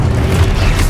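Spell-cast explosion in Hogwarts Legacy, a loud, dense low-frequency boom that rumbles for just under a second with no talk over it.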